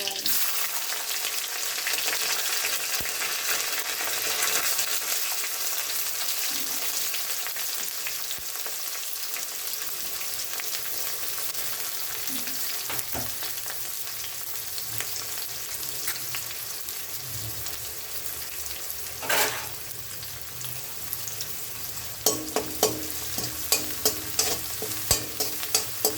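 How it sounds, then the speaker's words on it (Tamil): Onion and curry leaves fry in hot oil for sundal kulambu, a loud continuous sizzle running throughout, with occasional spoon scrapes and a burst of clatter from stirring near the end. "வெங்காயம் நல்லா வதங்கிடுச்சு."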